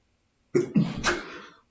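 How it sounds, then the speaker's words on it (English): A single person sneezes, a sharp close burst that trails off briefly in an otherwise quiet room. "I woke up this morning sneezing"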